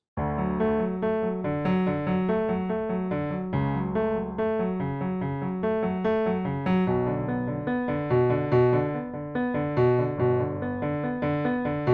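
Piano plays the intro of a song, a steady, repeating chordal pattern with a bass line underneath, moderately loud and continuous throughout, with no talking.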